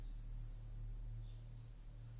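A few birds singing in a quiet setting, thin high chirps and short whistled phrases heard faintly and at a distance over a low steady hum.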